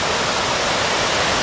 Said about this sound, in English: There's definitely a fall up here.